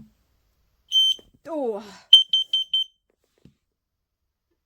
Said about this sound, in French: S'il y a une urgence absolument vitale, l'alarme se déclenche immédiatement.